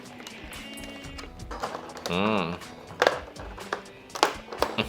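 Unpacking a Thermaltake Tt eSports Cronos 7.1 RGB gaming headset from its box: scattered close rustles, taps and plastic handling noises with a brief tearing sound midway, while someone talks quietly in between.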